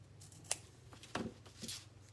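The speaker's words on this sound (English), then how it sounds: "I was going to try to cut all these to a point." Scissors snip chenille stems to a point for a rag flower craft, giving a few quiet, separate cuts spaced across a short, otherwise hushed stretch.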